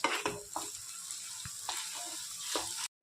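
Paneer filling fries quietly in a pan, a soft sizzle broken by scraping stirs and light utensil knocks, close but faint, with a brief drop to silence near the end.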